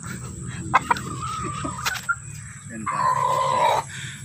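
Sweater-breed chickens and roosters in a backyard farm give several sharp clucks and calls, followed by a longer sustained crowing-like call, close and moderately loud over a low outdoor rumble.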